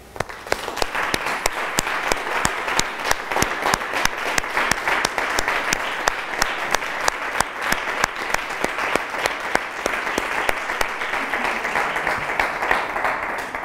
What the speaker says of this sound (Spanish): sí un aplauso para el amigo Juan